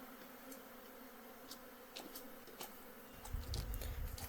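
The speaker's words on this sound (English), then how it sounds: "you can see the bees are all clustering around the bin and under the nuke" A honeybee swarm clustering around a bin and a nucleus hive gives a faint, steady buzzing hum. Occasional brief ticks are scattered through it, and a low rumble comes in near the end. No one talks.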